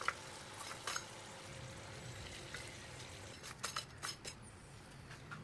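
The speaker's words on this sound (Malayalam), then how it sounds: "നമുക്കിതിനെ മീഡിയം ഫ്ലെയിമിൽ വെച്ച് ഫ്രൈ ചെയ്തെടുക്കാം" Jackfruit seeds frying in oil over a medium flame give a steady low sizzle, with a few light clinks of a utensil against the pan, close by and with no talk.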